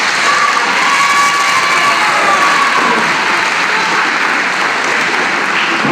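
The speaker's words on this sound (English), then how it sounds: "Yeah, give a round of applause." An audience at a middle school 6th grade band Christmas concert applauds and cheers, a loud sustained roar of clapping with shouts and children's voices throughout.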